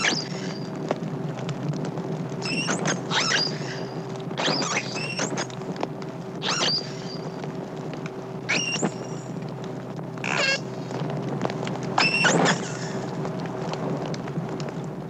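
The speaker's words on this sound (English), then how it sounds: "Our unhappy dolphin provides us with a great variety of recordings of her voice." A captive dolphin calling for its missing herd, rapid chirps and short rising whistles repeating irregularly over a steady hiss, fairly close and clear, with no one talking.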